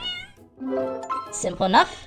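A cartoonish cat meows in the video game Hidden Kitten, a short rising mew near the end following a brief spoken remark, close and clear.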